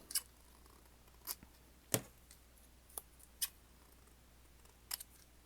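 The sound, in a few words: giant scissors snipping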